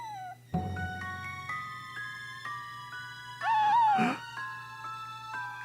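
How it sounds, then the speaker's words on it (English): A puppy in the Star Fox Adventures game whimpering and yipping in high, wavering cries over a steady low hum and twinkly game music, with one longer, louder whine near the end. "a puppy!"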